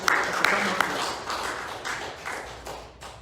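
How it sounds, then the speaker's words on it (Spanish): Short burst of applause from a church congregation, a scattered patter of clapping that fades quickly. "Démosle un aplauso"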